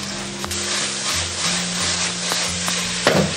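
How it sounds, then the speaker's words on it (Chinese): King oyster mushrooms and shredded pork stir-fried in a wok over high heat with salt, soy sauce and oyster sauce: a loud, continuous sizzle with sharp spatula scrapes and clacks against the pan. "然后开猛火给它爆炒1分钟"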